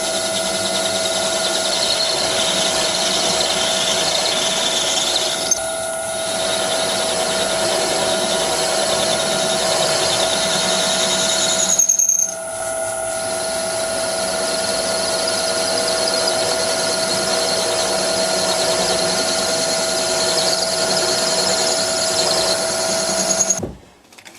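A metal lathe turns down a bushing to just under 15 mm, a steady continuous machining whir with a high whine, running loud and close throughout with two brief dips in level.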